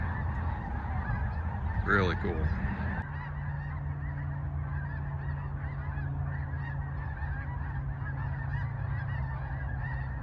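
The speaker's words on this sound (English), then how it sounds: "We have a bazillion snow geese dropping in over here." A huge flock of snow geese honking constantly in the distance, a dense wall of overlapping calls with one brief whistle-like call standing out and a short spoken remark.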